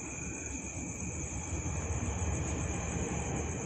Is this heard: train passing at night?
yes